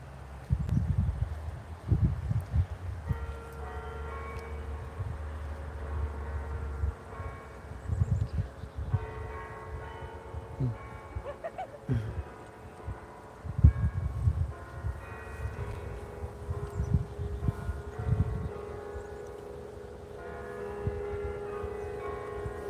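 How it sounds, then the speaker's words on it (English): Outdoor chimes ring out a slow melody of sustained bell-like tones, the notes overlapping and carrying across the air, with wind and rustling and occasional low thumps underneath. "This is a good chimes player."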